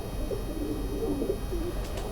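A Teddy breed pigeon coos softly in low, rolling murmurs close by, over a steady background hum.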